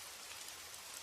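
Steady rain falling, a soft, even hiss of drops with no breaks, faint and continuous, with no voices.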